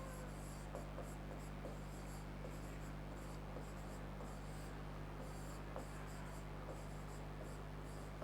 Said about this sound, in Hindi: यहाँ पे मैं लिखता हूँ आपके सामने वर्ण